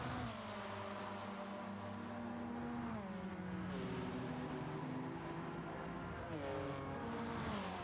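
Street-tuned race cars, including a Ferrari and a Nissan, roar through a video game street race, engines revving and shifting continuously with repeated gear changes, loud and steady throughout with no pauses.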